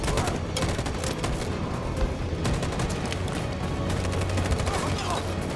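Dense rapid gunfire rattles without pause in a firefight in Detroit: Become Human, loud, continuous bursts layered over one another with a low rumble beneath.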